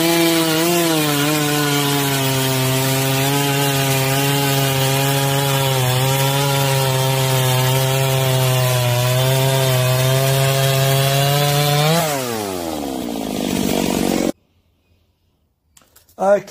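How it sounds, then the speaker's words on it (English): A chainsaw cuts steadily through a log at high, constant revs for about twelve seconds, its loud buzzing drone rising in pitch as the cut finishes, then the engine drops to quiet. "So we'll put this chain on the chainsaw. And we'll cut a log"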